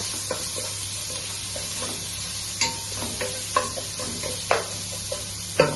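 Garlic and onions stir-fry in oil for dal tadka, a steady low sizzle running under repeated scraping strokes of a spatula against the pan, close and moderately loud with no talk.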